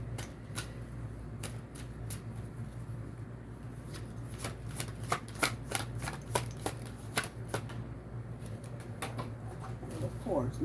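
Tarot cards being shuffled in a quiet room, a steady run of soft papery riffles and flicks with sharper snaps clustering toward the end, over a low background hum.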